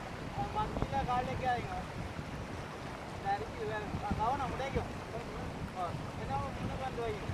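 Rushing floodwater surging in a steady, broad roar with wind buffeting the microphone, continuous and close throughout, with no pauses or distinct events.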